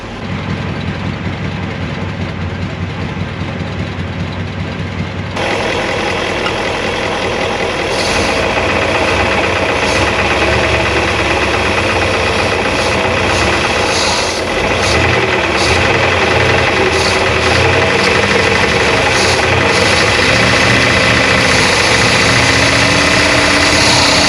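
A 1957 Chevy Bel Air convertible's 283 V8, a barn find, runs continuously with a steady, loud rumbling idle, rising slightly in intensity partway through, with no talk.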